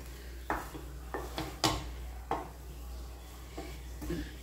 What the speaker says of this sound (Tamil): மல்லியில் போட்டு நல்லா கிளறி விடுங்க